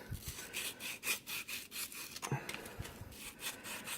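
Sandpaper works a burr off a brass trumpet tuning slide in a rapid series of short, close scratching strokes, fairly quiet, with a brief pause midway.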